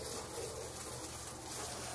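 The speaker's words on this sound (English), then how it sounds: "And I'm rinsing the deck off." Water from a hose sprays onto a deck in a continuous, soft, even rush, fairly faint and steady without talking.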